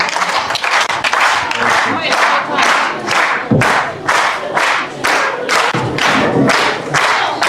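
An audience in a hall claps in rhythmic unison to welcome an arriving guest, sharp regular bursts roughly twice a second over a loud crowd murmur.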